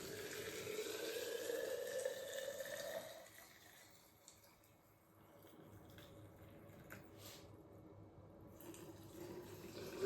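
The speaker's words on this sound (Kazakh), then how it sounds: "Енді осыған біз қазір қайнап тұрған, сақырлап тұрған суымызды құямыз." Boiling water is poured into jars of fruit compote, a steady close splashing stream for about three seconds that then fades into quieter trickling and drips.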